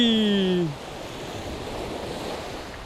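Sea waves wash steadily onto a shore at a coastal squid-fishing spot in summer, a continuous broad surf wash after a brief tonal sound at the start, with no talk.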